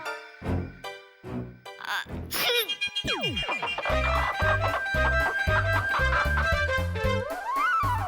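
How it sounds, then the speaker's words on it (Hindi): A cartoon character turned into a rooster clucks and crows in a comic animated scene, with bouncy sound effects and music. Short clucks come first, then a rising crow-like call rings out over the busy backing. "मुर्गे की तरह कर रहे हो।"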